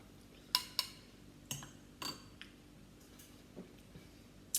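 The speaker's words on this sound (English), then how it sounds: "So I'll just stir that up." A spoon stirring broccoli coffee with milk in a cup gives a few sharp, close clinks against the ceramic. The taps are irregular and spaced out, and they sit over a quiet room with no talk.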